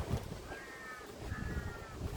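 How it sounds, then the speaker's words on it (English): Crows cawing outdoors in the bush, two drawn-out harsh calls in succession over steady wind noise, moderately near with no talking. "Crows crowing."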